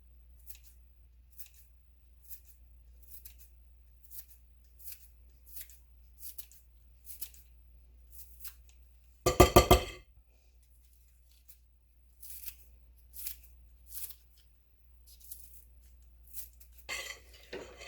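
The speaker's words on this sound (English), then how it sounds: "I did want to show you guys the herb scissors because, like I said, these are actually really cool if you ever look to get a pair." Herb scissors snip fresh chives in a string of quick, crisp cuts, close and fairly quiet, with one louder burst of rustling partway through and a short pause before the snipping resumes.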